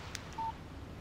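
A single short electronic tone sounds from a phone in the Alan Wake video game, brief and clear over a quiet hiss.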